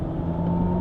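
Mercedes EQS electric car accelerating in sport mode, with a steady synthetic drive hum holding a sustained low tone and a higher whine, continuous and fairly close inside the cabin.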